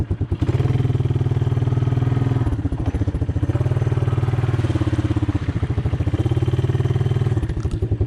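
A truck engine labours loudly and close while driving through mud after downshifting, a steady throaty rumble with a brief dip near 2.5 seconds before surging again, no talk.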